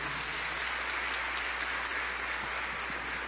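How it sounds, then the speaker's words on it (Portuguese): Church congregation applauding during a Portuguese-language sermon, a steady, dense wash of clapping that fills the whole room without pause. "pode aplaudir o Senhor"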